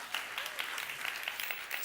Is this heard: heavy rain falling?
no